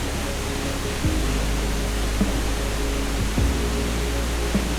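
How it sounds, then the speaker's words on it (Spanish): Steady, broadband rush of a waterfall in rainy season at Barva Adventure Park, Costa Rica, constant and full, with a low continuous roar and a few faint thumps. "El sonido del agua era constante y bastante relajante."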